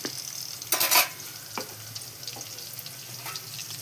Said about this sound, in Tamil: இதெல்லாம் போட்டு நல்லா வதக்கணும்.